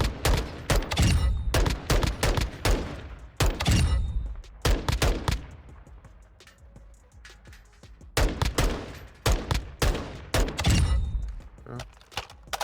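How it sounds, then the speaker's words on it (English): Single-fire gunshots from a rifle in the Modern Warfare II firing range of a video game: loud, sharp reports in quick clusters, a quieter lull midway, then another run of shots. "we're going to go back into the firing range and see what it feels like. So let's go single fire"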